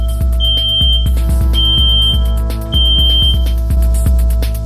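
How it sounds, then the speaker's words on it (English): Airflow alarm on a microbiological safety cabinet blaring loud and steady, a high repeating beep tone sounding in three long pulses over a pulsing low mechanical throb. "in 5 seconds you'll hear an alarm sound, which will become louder and louder"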